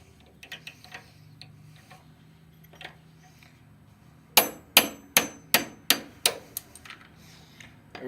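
Ball peen hammer striking metal while repairing broken grease fittings on a Cub Cadet 124 tractor: eight sharp, ringing blows in a steady rhythm, close and loud, after a few quieter taps and clinks.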